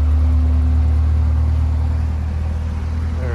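A 2019 Chevrolet Corvette Z06 idles nearby with a steady, deep, even rumble that holds without revving for a few seconds, with no talking over it.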